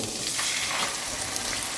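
Pork steaks with onion marinade sizzle steadily in a hot frying pan, a loud, continuous hiss with no talking.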